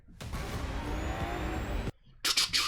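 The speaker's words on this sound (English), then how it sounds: "Oh, listen to that engine." A car engine from a fan-made Forza Horizon 6 game trailer drones steadily and loudly, cuts off abruptly, then gives way to sharp hissing bursts.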